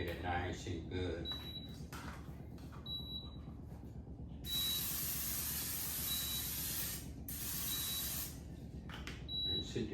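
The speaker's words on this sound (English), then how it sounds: "I'm going to just spray a little olive oil" Olive oil sprayed from a can over cauliflower in a Power XL air fryer, two bursts of close hissing spray, the longer one about three seconds, with someone talking and beeping tones around them.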